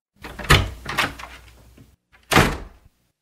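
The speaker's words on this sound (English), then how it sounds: "The door of the office opened, and Belinda came in." An office door opening as an audiobook sound effect: a solid wooden thud with a creaking swing, then a second firm knock of the door settling shut, close and clear with no voices.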